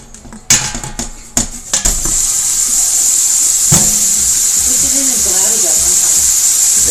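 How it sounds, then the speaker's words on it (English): Heated oil in a pot for beef and barley soup breaks into a steady, loud sizzle after a few sharp clanks of metal cookware, the hiss continuing evenly while a voice briefly murmurs in the background. "See if we get some sizzle."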